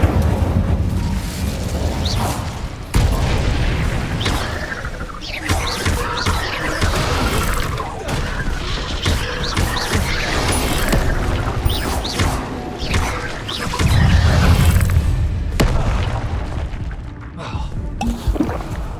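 Repeated Incendio fire spells cast in Hogwarts Legacy make loud, rumbling whooshing bursts of flame with crashing booms that run almost continuously, while a player speaks now and then.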